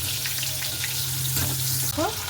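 Pointed gourd frying in oil in a wok, giving a steady, close sizzle and crackle throughout, with a low hum underneath and a brief chirping sound near the end.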